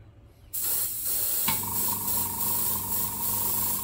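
After a brief quiet moment, an airbrush spraying SMS paint onto a 1/24 scale model starts a steady, close hiss that continues evenly without a break.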